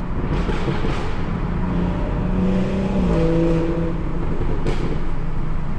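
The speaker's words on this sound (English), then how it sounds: "This is another downshift." A 2018 BMW 440i xDrive downshifting on city streets in NYC, with a steady loud engine roar heard from inside the car and the pitch shifting as the revs change, with no voices over it.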